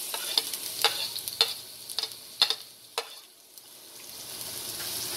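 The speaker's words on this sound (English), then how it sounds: "So now I am going to add the finely chopped garlic." Finely chopped garlic sizzles in hot tempering oil for an Indian potato and bean masala fry, with a steady frying hiss broken by sharp stirring clicks and pops from a spoon against the pan, close and alone.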